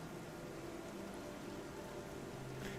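Soft, steady rain hiss from a sun shower in the video game Path to Nowhere during the Rain Burst event. It is faint and even throughout, like a fine drizzle falling close by.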